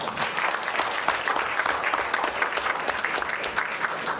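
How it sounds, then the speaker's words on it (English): A room of people at a school board of education meeting gives athletes a round of applause, a dense steady clapping that holds evenly for a few seconds at moderate loudness. "Big round of applause for you."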